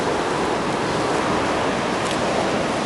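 Ocean waves break near the shore on the beach at Anglet, a loud, steady wash of surf roar mixed with wind rumble, with no clear gaps.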